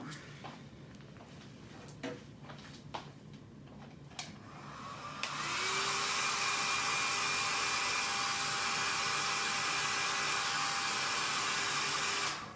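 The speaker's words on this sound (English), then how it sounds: "real quick, dry it with a hair dryer, and it's ready to go" A hair dryer switches on partway through and blows steadily at a loud, constant whir, preceded by a few faint clicks and handling sounds.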